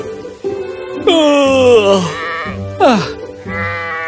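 Sheep from a flock bleat several times up close, with loud, wavering cries separated by short pauses.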